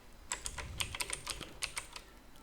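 Someone types a website address on a computer keyboard, producing a quick burst of close, crisp key clicks in an uneven rhythm that stops near the end.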